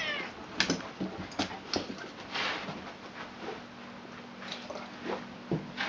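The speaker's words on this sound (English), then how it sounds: "Where's the kitty? Do you hear her?" A cat meows several times in short separate calls, moderately close, over quiet room background with faint rustling.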